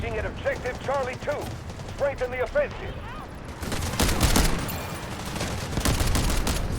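Rapid bursts of Mini-14 rifle fire in the Delta Force video game, following a stretch of speech; dense, loud cracking shots continue to the end with game effects mixed in.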